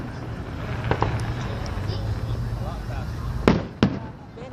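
At a 2015 summer festival, fireworks burst in a few distant pops over steady crowd murmur and wind rumble, with two sharper louder bangs near the end.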